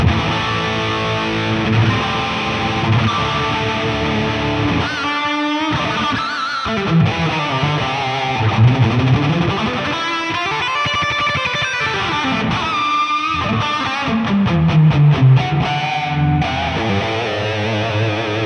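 Electric guitar played through an Affordaboard Neon Overdrive pedal with the drive turned up gives gritty, distorted notes and chords, loud and alone, with pauses between phrases and sustained ringing tones.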